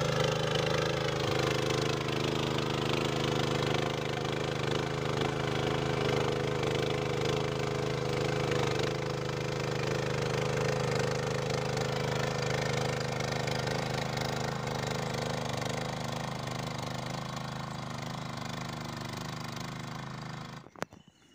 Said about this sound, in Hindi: ये देखिए इतने बड़े बड़े घास है, तो वीडर मिट्टी में मिला रहा है।